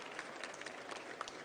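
Faint, diffuse applause from an audience at a startup pitch stage during Web Summit Lisbon 2023, a steady wash of distant clapping with no voices.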